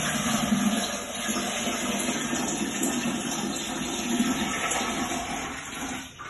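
Hot water pours steadily into a Still Spirits Filter Pro, a close, continuous rushing splash that holds for several seconds and eases slightly at the end.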